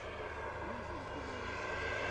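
An E-Flite UMX Pitts S-1S radio-controlled biplane flies overhead with a thin, steady electric motor whine and a faint pitch sweep, distant and low in level against outdoor background noise.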